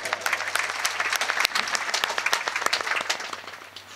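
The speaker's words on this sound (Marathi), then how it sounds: "एकदा तुमच्यासाठी टाळ्या वाजवा" An audience bursts into applause for a speaker, a dense, lively clapping that stays steady and then gradually fades out.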